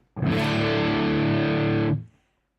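Distorted electric guitar tone shaped with pedal effects in Amplitube 5 amp software, a single thick sustained chord ringing loud for nearly two seconds before cutting off cleanly into silence.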